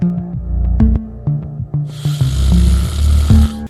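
A man snores loudly and close by in uneven rasping breaths, joined halfway through by a hissing rush of noise.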